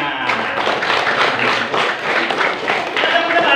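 Elementary schoolchildren clapping together at SDN Mekarmukti 06, a loud, continuous patter of many hands with slight rhythmic surges, close by and filling the whole stretch.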